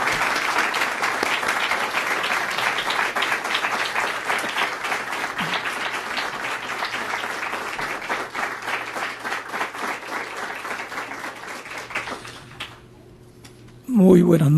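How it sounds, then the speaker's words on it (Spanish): Warm applause from a church congregation in San José, Costa Rica, a long dense rhythmic clapping that holds steady for about twelve seconds, then fades out, followed by a brief pause and a voice starting to speak. "Recibámosle con un caluroso aplauso."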